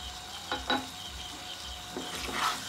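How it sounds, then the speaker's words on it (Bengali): Chicken dopiaza is stirred and fried in a pan after cumin powder goes in, giving a faint steady sizzle with a few soft scrapes of the spoon against the pan, close by and quiet. "এবার আমি এর মধ্যে জিরে গুঁড়োটা দিয়ে দিচ্ছি। এটাকে আবারও ভালো করে মিক্স করে"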